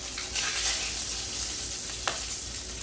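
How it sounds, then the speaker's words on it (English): Browned bits being scraped off the bottom of a pan of hot oil while cooking chicken adobo: a steady, close sizzle throughout, with one brief sharp scrape near the end. "I want to scrape some of this bottom off."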